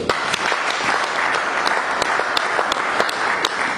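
A church congregation claps and cheers in steady, dense applause that fills the whole stretch, with sharper individual claps punctuating the crowd noise.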